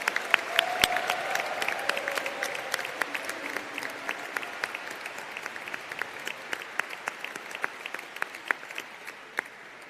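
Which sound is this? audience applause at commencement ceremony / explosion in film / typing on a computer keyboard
audience applause at commencement ceremony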